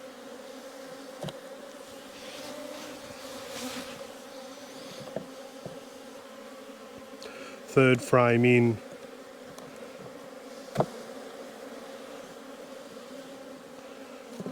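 A steady low drone of honey bees fills a hive inspection, with one bee zipping loudly past the mic midway and a few quiet words spoken over the hum.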